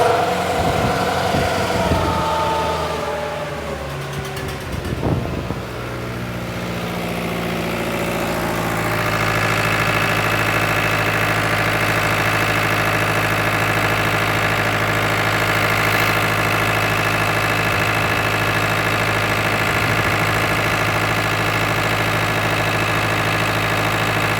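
A New Holland TL-90 turbo diesel tractor runs with its fuel turned up, first a rough, uneven engine note, then a steady loud drone that settles into a sustained high-revving hum.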